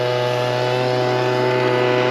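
Engine of a gold drywasher machine running in the Arizona desert, a loud, steady, close motor drone with a strong low hum and ringing mechanical tones, continuous and without talk.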